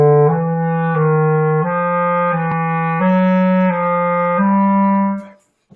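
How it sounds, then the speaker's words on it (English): A single melodic instrument plays a chromatic scale pattern in thirds, sustained notes one after another at an even pace, rising and falling slightly before fading out. "The other option for doing the chromatic scale in thirds is,"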